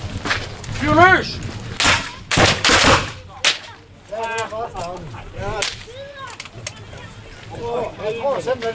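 Guns fire at a historical demonstration at Dybbøl, a few sharp cracking reports early on, while people talk and shout nearby between and after the shots.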